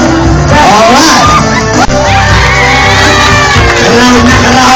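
A large crowd at a costume contest cheers, whoops and shouts loudly and continuously, close and dense, with a few voices standing out above the din.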